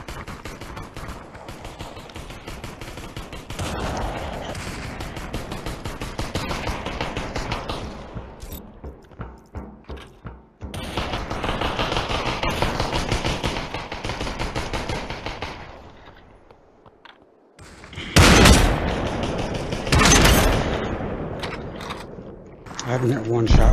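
Sniper rifle fire in a video game comes as sharp, loud shots amid mechanical clicks and bolt-like rattles, with bursts and gaps across the stretch; someone talks over parts of it.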